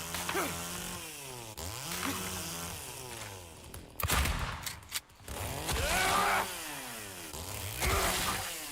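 Chainsaw in the video game Silent Hill 2 Remake, revving in repeated loud bursts that rise and fall, with harsher impact noise in the middle of the run.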